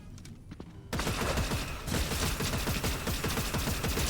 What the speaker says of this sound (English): Gunshots on me.